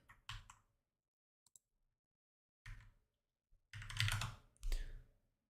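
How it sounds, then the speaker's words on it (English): Several short bursts of keystrokes on a computer keyboard, close and fairly quiet, separated by gaps of silence, with no talking. "Oh, wait, I typed that wrong."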